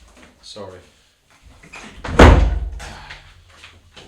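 A door slams shut in a doorway, a single loud thump that rings briefly, with people talking quietly before it.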